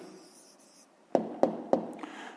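A pen writes down a maths answer on paper: soft scratching at first, then three sharp taps or strokes about a third of a second apart, close and clear with no talk.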